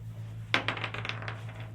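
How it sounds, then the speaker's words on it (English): A die is rolled onto a tabletop during a tabletop role-playing game, giving one sharp clatter followed by a few quick, lighter rattling bounces over a low steady hum. "Roll your die. Roll it."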